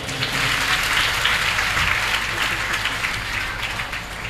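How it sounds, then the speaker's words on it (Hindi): A large crowd at a Hindu Bhagavat Katha religious discourse in Delhi breaks into loud, dense, sustained clapping that holds steady and close throughout, fading only slightly at the very end. "एक बार जोरदार ताली बजाएंगे।"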